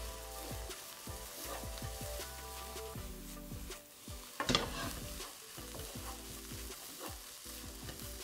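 Food being stir-fried and tossed in a wok in a Chinese takeaway-style kitchen, with steady loud sizzling broken by repeated scraping, clanking toss strokes and a sharper burst midway, no voices.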